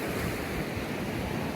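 Ocean waves breaking on a shore, a dense continuous roar of surf with wind noise buffeting the microphone while walking along the water, no voices.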